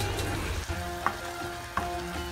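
Tomato masala for dal makhani sizzling and frying in a pan, a steady close hiss with a couple of soft stirring knocks partway through.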